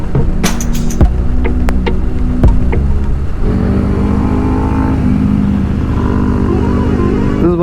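Several motorcycles rev and pass on a popular motorcycling route in low visibility, a steady engine drone with engine whine and passing roars, close and loud throughout.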